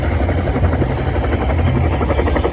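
Loud, close Kiowa helicopter rotor chop, a rapid steady thumping with a constant engine whine, continuous and unbroken throughout.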